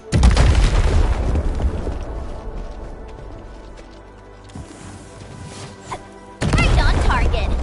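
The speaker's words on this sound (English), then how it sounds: "I give that explosion a 10 out of 10." Explosives blasting during mining in the video game Arknights Endfield: a loud, rumbling burst at the start fades into lingering debris noise, then a second heavy blast hits near the end.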